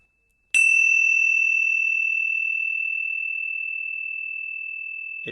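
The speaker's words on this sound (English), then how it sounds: "The sound of the bell moving through time is the present moment" A single meditation bell is struck once and rings as a clear pure tone. It sustains and fades slowly over several seconds in near silence, and a faint sound comes in at the very end.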